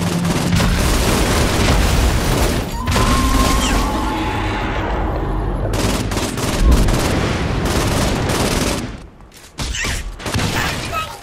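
Gunfire and explosions from the Saints Row IV video game, a dense continuous barrage of shots and booms with bursts throughout, loud and close, briefly thinning near the end.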